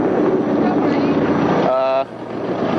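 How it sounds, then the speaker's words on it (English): A racing powerboat, Michelob Light, fires up its engines at a submarine base in Mar del Plata in 1978. A steady rush of wind gives way to a sudden buzzing engine note that settles into a lower rumble. "that's Michelob Light starting up its engines"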